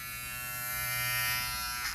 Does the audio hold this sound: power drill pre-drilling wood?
no